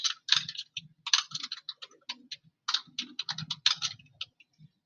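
Typing on a computer keyboard, a close, quick run of crisp key clicks in uneven bursts with brief pauses, alone with no talking.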